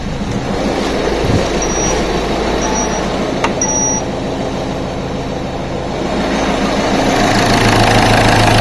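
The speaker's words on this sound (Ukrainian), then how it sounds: "Але двигун робить стабільно." Peugeot/Citroën 1.6 HDi DV6C diesel engine running steadily at idle during injector fault testing, a continuous low rumble with a fine rhythmic clatter, close and loud, with a brief metallic tick and a slight rise in level near the end.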